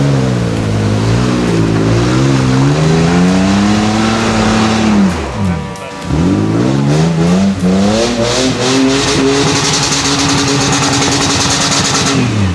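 A modified Toyota 4Runner with an LS engine revs hard off-road, its pitch climbing and falling in long loud sweeps, dipping briefly midway before surging again, with no talk.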